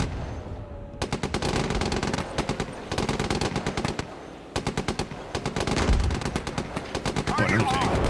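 Tank coaxial machine gun in the tank game GHPC, firing in long rapid bursts with brief pauses, loud and close throughout, with faint talk now and then.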